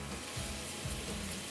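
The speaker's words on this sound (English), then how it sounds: "There we go, already starting to sizzle." Minced onions sizzle in olive oil in a pan over moderate heat, a soft steady crackle with faint stirring scrapes, heard alone with no talking.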